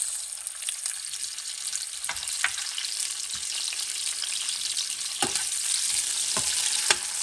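Vegetables such as peas, snow peas and artichokes fry steadily in a paella pan, a continuous close sizzle broken by several sharp scrapes and clicks as they are stirred, with no talking.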